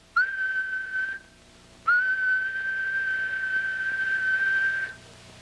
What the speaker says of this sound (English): a higher frequency note, such as a whistle, would look like this.